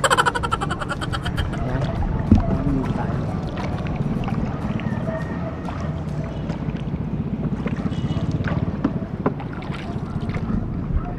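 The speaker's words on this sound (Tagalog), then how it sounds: "So nakasakay tayo ngayon sa bangka." A small wooden fishing boat moves across open water, with steady engine drone, wind buffeting the microphone and water rushing against the hull, loud and continuous.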